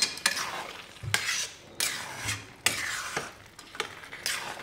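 Grated carrot halwa stirred in a pan with a spoon, repeated scraping strokes about once every half second to second over a soft sizzle, close and quiet with no voices.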